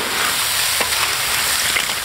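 Sichuan peppercorns frying in hot oil, giving a loud, dense, continuous sizzle up close with a faint stir or two beneath it, with no voices.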